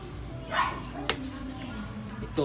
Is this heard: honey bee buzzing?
no